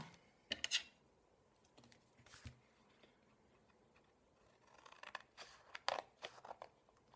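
Scissors cutting around a paper cutout at a craft workbench, heard as faint, close snips and clicks in irregular bursts against a quiet room, with no talking.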